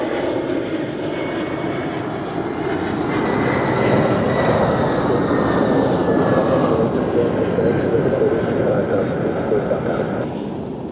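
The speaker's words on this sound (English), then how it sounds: "Here we have Condor with the breast cancer awareness livery" A Condor airliner from Frankfurt, wearing a breast cancer awareness livery, rumbles past at Zurich airport with a loud sustained jet engine roar that swells slightly and holds steady for the whole stretch.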